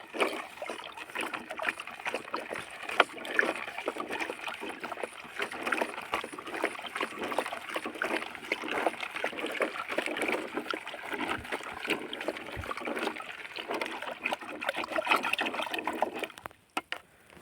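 Copper sulfate is stirred into water in a farm pond, giving steady splashing and sloshing that runs for the whole stretch at low level with no voices.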